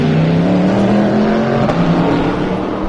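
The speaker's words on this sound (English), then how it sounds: "Corvette leaving the pit. Dirty noise." A Corvette race car leaving the pit gives a loud, rough, continuous engine roar close by, steady throughout a few seconds.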